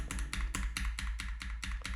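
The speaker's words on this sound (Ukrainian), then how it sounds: "від механічної клавіатури" Mechanical keyboard keys clatter in a fast, steady run of sharp taps, about nine strokes in two seconds, close and clear with no talk over them.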